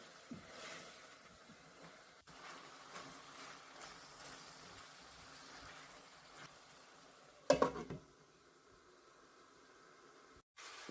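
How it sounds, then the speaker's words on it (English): Cuban picadillo of ground beef simmers gently in a pot with a soft, steady bubbling hiss, broken by a brief clatter of a spoon or lid partway through. "I'll give everything a good stir, cover the pot, and let it gently simmer on low heat for about 15 minutes"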